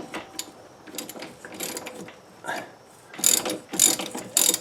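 A hand socket ratchet tightens a bolt on a 1997 Audi A4 Quattro, giving a series of close, uneven bursts of quick clicking with short pauses in between.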